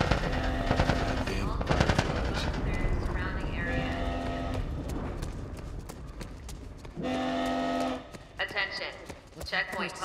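Rapid bursts of gunfire in The Last of Us Part 1 as soldiers shoot at fleeing Fireflies, loud machine-gun rattles and shots mixed with shouting voices and game noise across the scene.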